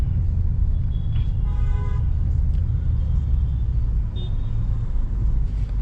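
A Mercedes-AMG E53 hybrid driving through chaotic Indian city traffic gives a steady, deep engine rumble from start to finish, with faint tonal horn-like notes from the street around it.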